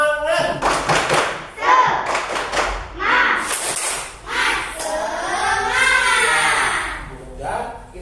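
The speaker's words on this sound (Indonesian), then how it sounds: "mari sama-sama kita tepuk semangat dulu, ya" An elementary class performs a rhythmic Indonesian spirit clap (tepuk semangat) in bursts of patterned claps with thumps, mixed with children's chanting voices and a teacher's voice throughout.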